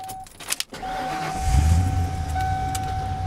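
Lifted truck started with a key: a jingle of keys and a chime, then the engine cranks and catches into a steady low idle close by, with a warning tone sounding over it.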